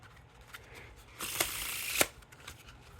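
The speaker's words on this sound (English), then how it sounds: "Now for a giant fan of the faces." A quick, crisp ripple of City of Mirrors playing cards being fanned out face-up, lasting about a second, close by and otherwise quiet.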